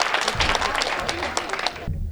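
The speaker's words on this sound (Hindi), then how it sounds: "एक बार जोरदार ताली स्वागत करें प्रमोद पंकज" An audience at a humorous Hindi poetry gathering gives hearty applause to welcome poet Pramod Pankaj, a thick wash of clapping that cuts off abruptly near the end, with a voice briefly over it.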